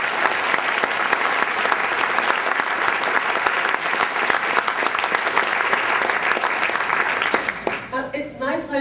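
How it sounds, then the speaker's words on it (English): At a civil liberties awards dinner, a large audience gives sustained, loud applause that runs steadily for several seconds before thinning out as a speaker's voice comes back in at the end. "Let's have another round of applause for that."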